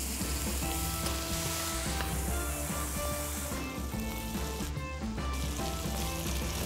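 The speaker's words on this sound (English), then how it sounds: "we pan sear both sides while basting with butter" U.S. beef slider patties sear in a hot pan while being basted with butter, giving a continuous, even sizzle at close range. It stays steady over a low tonal background, with no voices.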